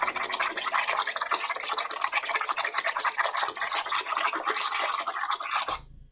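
A paintbrush tip is swished rapidly in a water cup, giving a dense, continuous rattling scrub close to the ear that cuts off abruptly near the end.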